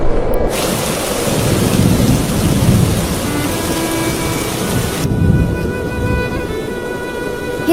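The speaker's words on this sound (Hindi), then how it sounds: "बारिश होने लगी" Heavy rain pours steadily with rumbling thunder rolling underneath, a loud, dense wash of noise that swells and eases without pause and carries no voices.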